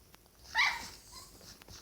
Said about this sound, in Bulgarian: извинете за този звук. Кучето ми тук се опитва да се кача на дивана.